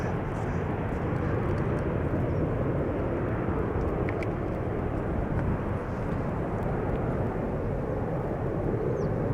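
A Delta Air Lines airliner in its first flight year of 2016 departing Schiphol's Polderbaan, a loud continuous jet roar filling the whole stretch, steady and close with a faint high whine on top, no talking.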